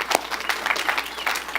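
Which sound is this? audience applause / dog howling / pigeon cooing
audience applause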